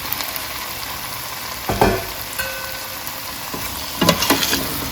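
Carrots and potatoes being stirred into a pot of oxtail, giving a steady low sizzle with two louder scraping, clattering bursts of stirring midway and near the end; no one speaks.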